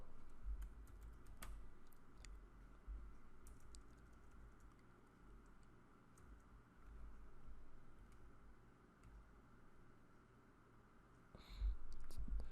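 Quiet, steady typing on a slightly sticky computer keyboard, a stream of soft clicks with a few louder key taps, no voices.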